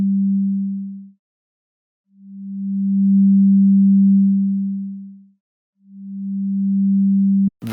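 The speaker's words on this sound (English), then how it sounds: "the level of this oscillator is going to be the amplitude of this oscillator, of this sine wave" A pure sine wave oscillator tone that swells and fades in three separate bursts as its amplitude is changed by hand, steady pitch with silent gaps between, ending in a short click.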